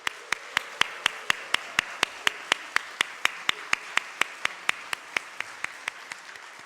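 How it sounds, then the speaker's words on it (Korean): Church congregation at an Easter Sunday family service claps for children in slow, even unison, crisp sharp beats repeating steadily about four times per second and fading slightly toward the end. "우리 비춤 세대 아이들 좀 격려의 박수하면 좋을 것 같아요."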